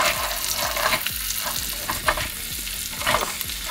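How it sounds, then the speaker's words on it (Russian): Steady sizzling of potatoes frying in a pan on maximum heat, with repeated scraping stirs every half second or so, close and fairly loud. "на максимум она стоит и жарится"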